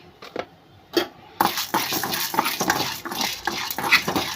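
Cloves and chana dal are stirred in a pan, with scraping and clinking of a utensil against the metal and a soft sizzle throughout. The scrapes are close and come in an uneven rhythm.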